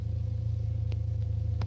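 A car engine idling at a red traffic light, a steady low, pulsing rumble held close and even throughout with faint incidental clicks and no speech.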